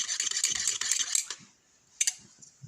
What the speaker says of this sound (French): Voilà, tu peux continuer à mélanger.